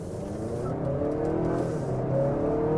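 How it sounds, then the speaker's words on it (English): A 2018 Honda Accord with the 2.0 engine accelerates hard from a stop, its engine rising steadily under a brief chirp of tire squeal, heard from inside the car at moderate level. "Little tire squeal."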